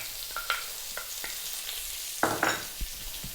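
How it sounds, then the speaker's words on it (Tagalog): Garlic and onion sautéing in oil over high heat while beef fried rice is made, with a low steady sizzle broken by scattered scrapes and stirring clinks. "So, gigisahin ko lang siya sandali."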